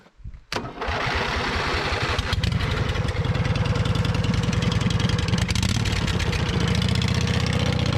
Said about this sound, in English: We're jump starting the absolute beast. The V twin ride on.